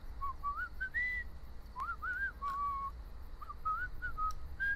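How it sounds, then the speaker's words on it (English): A game character whistles a wandering tune in The Walking Dead: The Final Season, with several short rising and falling phrases, fairly clear and close, over a low steady background hum with no talk. "Would you stop the whistling, bro?"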